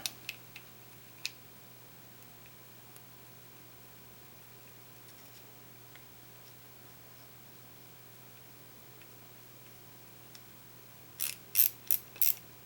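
Clicks from a BPS Rick Clunn Signature Series RCX10SD baitcasting reel being reassembled with its drag and tension knob, a few sparse faint ticks early, then a quick burst of four louder ratcheting clicks near the end, close and otherwise quiet.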